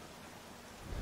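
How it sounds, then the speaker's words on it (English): A short burst of steady rain with a low rumble of thunder swelling at the end plays during a storm scene in The Walking Dead video game, with no talking. "I did say a storm was coming."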